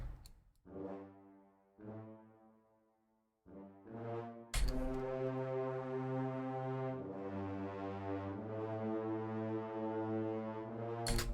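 Deep brassy bass notes sound one at a time, then swell into a sustained, layered chord that holds steadily to the end.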